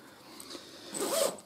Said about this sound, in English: it's got a zip on the inside as well, so you're not relying on pulling one zip round.